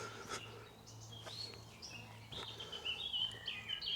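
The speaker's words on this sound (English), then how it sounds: "I'm listening to the bird song as well." Birds chirp and twitter in a quiet English countryside field beside an old bridleway, thin high calls scattered over the steady low drone of distant traffic, growing a little busier toward the end.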